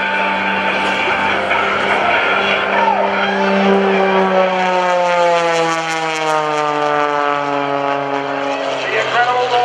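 An aerobatic Viper plane flown by Jason Newburg at a naval air station airshow, its engine droning loudly and continuously with sliding pitch as it climbs and rolls, under a running announcer's commentary.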